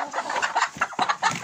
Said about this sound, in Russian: куры мои поели